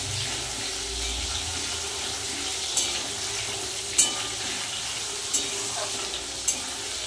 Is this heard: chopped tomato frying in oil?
yes